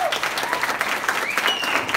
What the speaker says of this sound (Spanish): Dale un gran aplauso para Valen